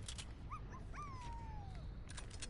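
A dog whimpering with high, thin yips and a long falling whine, fairly faint over a steady background hiss, with soft clicks around it.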